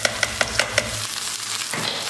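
Vermicelli and rice stirred and toasted in a pan, giving a steady soft sizzle with a quick series of sharp scraping taps from the stirring early on, then a continuous frying hiss.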